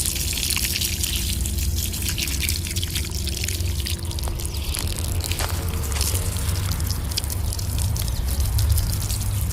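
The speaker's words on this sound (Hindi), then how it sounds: "टमाटर के पौधों में वाटरिंग कर रहे हैं।" Water pours and splashes onto tomato plants in a hot kitchen garden, a continuous close gushing hiss that runs unbroken throughout with no talking.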